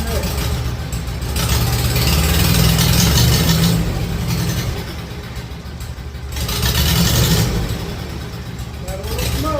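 A 1951 Farmall Cub tractor engine runs close by and revs under throttle in two rising surges, dipping back between them, with voices partly under the noise.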